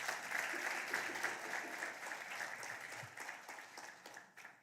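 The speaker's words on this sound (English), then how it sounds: "Mr. Alphonse Benjamin, let's give him another round of applause." Audience applause fills a taxpayer appreciation awards ceremony in Swakopmund, Namibia, a steady dense clapping from a crowd that holds for several seconds, then thins and fades toward the end, fairly soft and distant.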